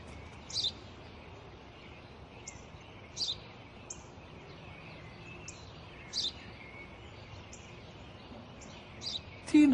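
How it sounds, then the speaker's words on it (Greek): A sparrow chirps in short, bright bursts spaced a few seconds apart, fairly faint over quiet outdoor background, with a brief louder sound at the very end. "Ένα σπουργίτη."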